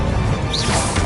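A Bombarda blasting spell going off in Hogwarts Legacy, a short loud burst with a quick whooshing sweep in the middle, dense and noisy for about a second.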